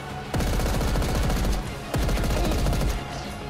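Rapid automatic gunfire from the video game Paint the Town Red comes in two sustained bursts of about a second and a half each, loud and close, separated by a brief pause, with no talking.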